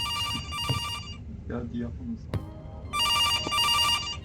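A harmonic telephone ring bursts twice in the horror game September 2, separated by a pause where someone speaks briefly and a sharp click is heard, the ringing fairly loud and close.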